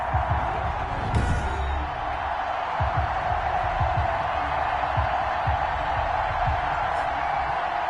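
Stadium crowd in a Seattle Seahawks versus New Orleans Saints football video game, a broad steady roar with scattered thumps and brief swells, heard as a constant backdrop.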